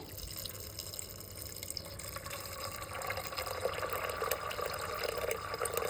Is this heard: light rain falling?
no